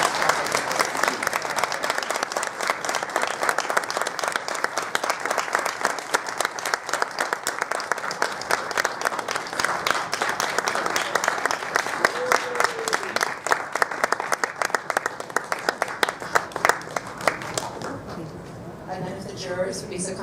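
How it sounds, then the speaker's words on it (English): Sustained applause from an audience at a thesis presentation, many hands clapping in a dense steady stream for most of the stretch before thinning out, with a voice briefly heard as it dies down. "So if you just give a round of applause for them."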